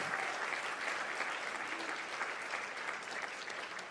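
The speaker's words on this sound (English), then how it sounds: "Let's give Jeffrey another round of applause" Sustained audience applause for honorees at a Desert Arc Champions of Change event, steady and fairly distant-sounding, a dense wash of clapping with no break.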